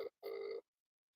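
An outgoing phone call rings back with a short electronic tone burst, a brief pause, then a longer ring tone that cuts to silence, clear and close on the line.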